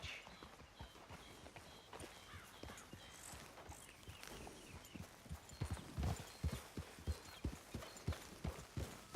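Horse hooves clip-clop steadily while riding in the Red Dead Redemption 2 video game, a continuous walking-to-trotting rhythm that grows louder and more pronounced toward the end, alone without talk.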